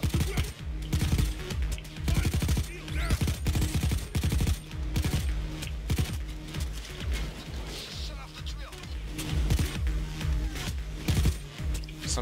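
Sniper and other gunfire in the video game Payday 2, Transport: Crossroads heist, heard as a dense run of repeated loud shots throughout, layered with game effects and a voice talking over it.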